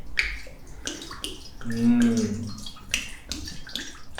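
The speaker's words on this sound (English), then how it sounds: "let me grab a shot of that sweet pour right there" Wine glugging from a bottle into a glass in a few gurgling bursts, close and clear, between short bits of background speech.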